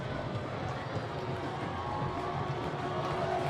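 A stadium crowd at a Chattanooga soccer match jeering the visiting Red Wolves, heard as a dense, steady roar of many voices at a distance, unbroken throughout.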